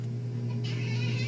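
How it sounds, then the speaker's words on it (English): A pet cat meows a single drawn-out call at close range over a steady low electrical hum, with no talking. "Cleo, what are you meowing about?"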